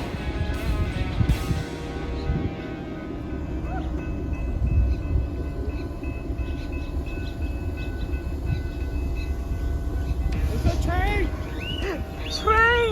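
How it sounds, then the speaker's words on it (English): A train rumbles past at a distance in a long, steady low roar, with birds chirping near the end and brief voices early on. "Train."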